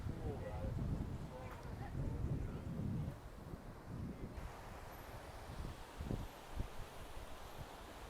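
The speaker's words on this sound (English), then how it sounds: "the wind is right in my face" Wind buffets the microphone at Kootenai Falls in Montana, a loud low rumbling roar with gusty surges that eases partway through, masking the distant water.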